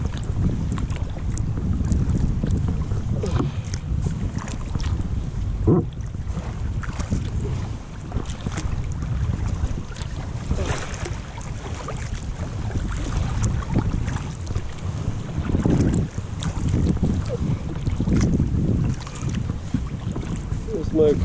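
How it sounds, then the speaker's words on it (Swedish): Water lapping and slapping against shallow rocks near a kayak in an archipelago, heard as a steady wash of low, close splashing with wind buffeting the microphone throughout. "Vattnet slår."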